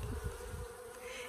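Close, steady buzzing of honey bee queens in queen cages, a brief low hum without any voices.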